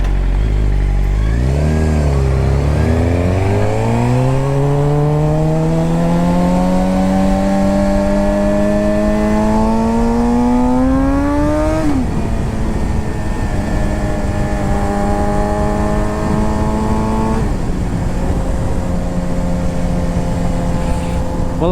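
A motorcycle engine with an extremely loud exhaust revs up through a long rising climb, drops sharply, then holds a steady drone before easing off again; loud and close.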